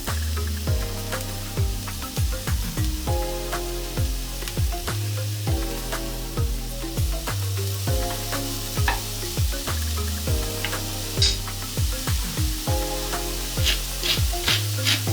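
Garlic and mushrooms fry in a pan with a continuous sizzle, broken by repeated stirring knocks and scrapes throughout.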